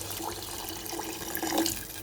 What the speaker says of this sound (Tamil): 2 கப் ரைஸ்க்கு 3 கப் அளவு தண்ணி சேர்த்துக்கோங்க